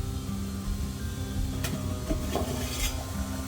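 Water for rice comes to a boil in a pot on a home kitchen stove, a steady, fairly close bubbling hiss with a few faint clinks of utensils and no talking.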